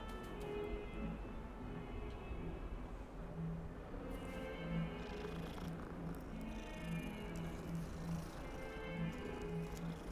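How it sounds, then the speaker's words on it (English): A cat purrs steadily in the Hogwarts Legacy video game, a soft continuous rumble that runs alone for the whole stretch at moderate loudness. "Kitty."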